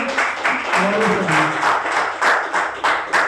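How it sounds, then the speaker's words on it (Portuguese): A church congregation applauds steadily, with bursts of clapping rising and falling, while a voice speaks over the noise. "Você pode dar uma salva de palmas para o Senhor nessa noite"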